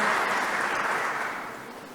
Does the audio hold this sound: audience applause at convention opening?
yes